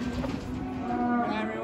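Cattle lowing at a livestock market, a sustained moo with a steady low tone lasting over a second, fairly loud and close amid general market background noise.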